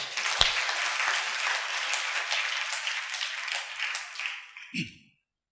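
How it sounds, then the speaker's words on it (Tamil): Church congregation clapping hands together during a sermon: a burst of dense, steady applause that fills the room, tapers off, and stops abruptly, with one short voiced sound just before the silence. "கைதட்டுங்க பார்க்கலாம்"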